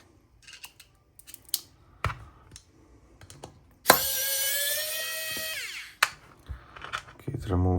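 Electric precision screwdriver (CreationSpace CS0802A) backing out small screws: a short whirring burst with a rising-then-falling pitch, amid clicks and handling noises, with a person speaking nearby.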